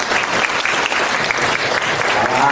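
A hall audience at a Buddhist Dharma talk in Aarhus, Denmark, breaks into brisk, steady applause, loud and continuous for a couple of seconds with no talking over it.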